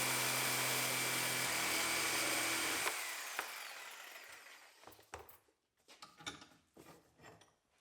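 A power cutting tool slicing off part of a 2015 Mustang donor car, a loud whining grind for about three seconds that then winds down, followed by scattered clanks and shop noises.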